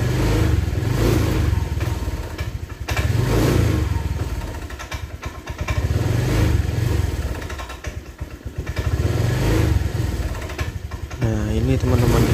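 A Honda Vario 125 scooter with a fault that makes it die when the throttle opens runs close by, the engine rising and falling in repeated revving surges with clattering, while someone talks over it.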